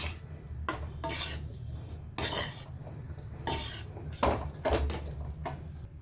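Rice being mixed into vangibath masala in a pot, with repeated clinks and scrapes of a metal spoon against the vessel in short bursts, close and fairly loud.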